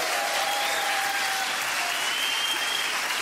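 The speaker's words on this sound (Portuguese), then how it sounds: "Faz favor, uma salva de palmas para ele." Steady audience applause fills the room at a comedy show, a dense wash of clapping hands that holds at an even level throughout, with no voices breaking through.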